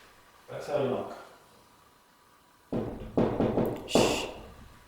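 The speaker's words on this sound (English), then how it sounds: "Might be able to hear anything if you keep knocking." Three heavy knocks thud in quick succession inside an old cottage in Cooma, following a soft murmuring voice and a stretch of near silence.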